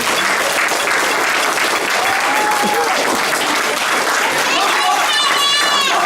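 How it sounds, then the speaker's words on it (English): A crowd at an under-9 youth football championship celebration bursts into loud, sustained applause, with voices and a few whistle-like cheers rising through the clapping. "So I think they both need that round of applause."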